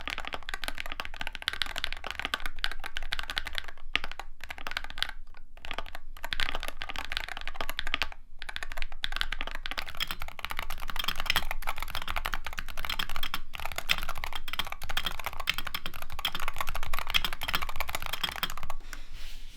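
Fast, continuous clacking of keys on unmodded Wooting 60HE V2 and 80HE mechanical keyboards, dense and steady throughout, close and fairly loud, with a couple of brief pauses.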